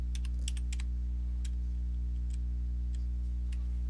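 A computer keyboard clicks as a command is typed, with sparse separate keystrokes over a loud steady electrical hum.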